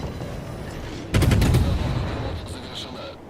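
Naval guns fire in World of Warships, a sudden loud volley of booming shots that rolls on for over a second and then trails off into fainter gunfire and distant impacts, with game background noise underneath.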